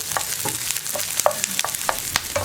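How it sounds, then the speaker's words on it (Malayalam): Onion frying in a pan with ginger and garlic, a close steady sizzle broken by repeated sharp scrapes and stirs of a utensil against the pan, with no one talking. "ഈ സവോള ഒന്ന് കുക്കായി വരട്ടെ."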